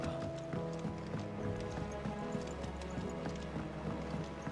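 A mount gallops in Final Fantasy XVI, rapid rhythmic hoofbeats drumming steadily over a low game music bed, close and continuous throughout.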